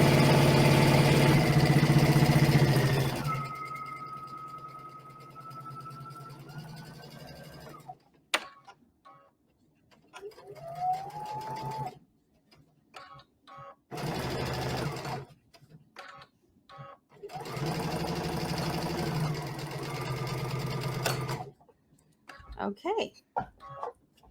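A sewing machine stitches a small patchwork Christmas stocking in several bursts: a long loud run, then shorter runs separated by pauses, with a voice talking in places.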